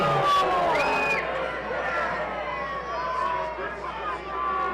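Minor-league baseball crowd at an Idaho Falls Chukars versus Rocky Mountain Vibes game booing and jeering at a player, a broad, loud babble of shouts and whistles carrying on throughout, with voices mixed in.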